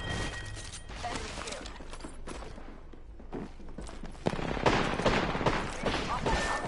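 Video game gunfire crackles in dense, rapid bursts, with a louder volley near the end, mixed with scattered footstep-like thuds and voice chatter in a military shooter firefight.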